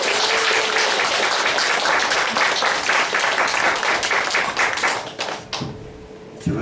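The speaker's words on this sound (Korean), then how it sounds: "우리 성교사님 나오실 때 박수로 환영하겠습니다." A church congregation at a Sunday worship service applauds to welcome a visiting missionary, a dense, steady wash of clapping that holds for several seconds before thinning out and fading near the end.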